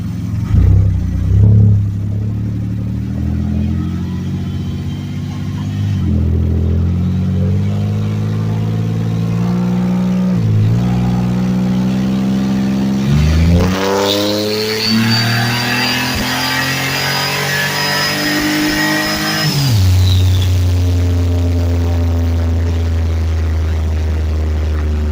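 Car engine running steadily while driving out on the road, with a low droning tone that climbs and falls through gear changes and a sustained higher whine for several seconds; no talking.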